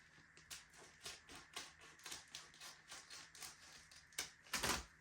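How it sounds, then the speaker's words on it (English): A rapid series of crisp snips and rustles as scissors trim plastic window insulation film, close and fairly quiet. "just take your scissors and cut off what you need"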